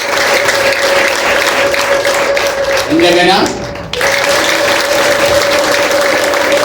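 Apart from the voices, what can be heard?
applause and ululation from congregation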